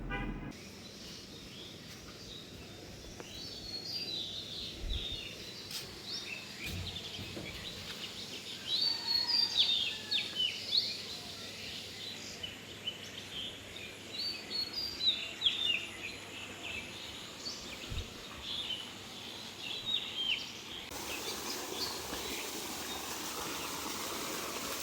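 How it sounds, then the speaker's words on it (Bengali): Birds sing at dawn around 5:30 in a village: scattered chirps and calls come and go at moderate distance over a faint, steady low background hum. "এখন শুধু পাখির আওয়াজ আর আমার আওয়াজ।"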